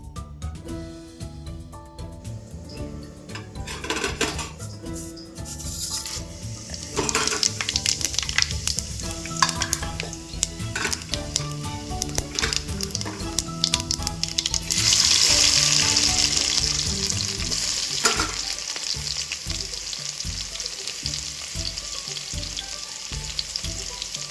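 Green chilies, curry leaves and onion fry for a fish curry in a loud, dense sizzle with frequent stirring clatter. The sizzle grows more intense partway through and carries on steadily, with no talking.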